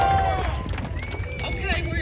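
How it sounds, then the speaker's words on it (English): A crowd cheers and claps at the grand opening of the Buc-ee's convenience store in Sevierville, billed as the world's largest, a steady broad roar of many voices across the whole moment. "Another cheer for Buc-Ee's!"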